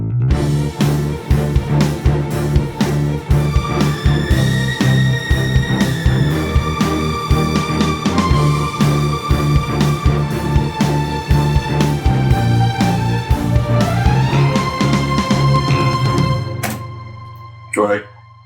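A quickly sketched action film music cue with driving, evenly pulsing percussion hits under sustained tonal layers, building steadily before stopping abruptly with one final isolated hit.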